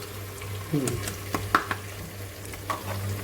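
Onions browned until wilted, with a tablespoon of cumin added, frying in a pan for mutton biryani, a low steady sizzle broken by a few sharp clinks and scrapes of stirring, with faint background voices.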